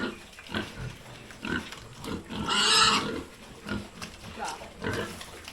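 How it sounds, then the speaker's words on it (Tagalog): Pigs on a small Philippine farm grunt and snort in repeated close bursts, with a louder squeal-like burst in the middle and a few faint voices in the background. "ito na lang guys, ang aking natitirang baboy ngayon"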